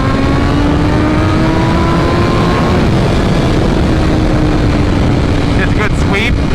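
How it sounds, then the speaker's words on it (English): A 2023 BMW M1000RR motorcycle engine roars loudly on a dyno, its pitch climbing through a high-RPM sweep and easing back down, filling the space at close range. "Let's do sweeps to high RPM, then let it decel down by itself."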